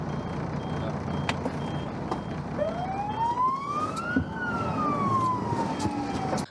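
Siren of a Ukrainian State Emergency Service (DSNS) vehicle heading out to a fire or emergency, a loud rising and falling wail sweeping up then down over steady traffic noise.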